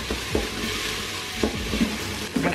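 Leftover smoky tempeh chopped and browning in a pan, sizzling steadily while a utensil stirs and scrapes it in several distinct pushes, close and alone.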